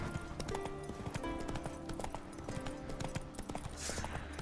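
Rhythmic clip-clop of horse hooves while riding in the video game The Witcher 3: Wild Hunt, steady and continuous throughout, with a faint breathy whoosh near the end.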